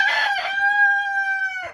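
A rooster crows once, close and loud, a single drawn-out cock-a-doodle-doo lasting under two seconds inside a chicken coop.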